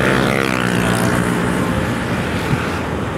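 Propeller aircraft at Pondok Cabe airfield, heard from a moving Volta Virgo electric motorcycle: a loud, steady, droning engine roar with wind rush that holds through the whole stretch, with no talking.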